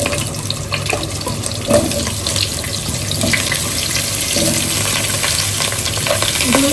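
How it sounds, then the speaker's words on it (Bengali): Cauliflower and potato fry in oil with turmeric, a loud continuous sizzle with stirring scrapes over running tap water and background noise. "এখন এখানে ফুলকপি দিব ওই আগে ধরো আলু আর ফুলকপি একসাথে ভেজে দেবো"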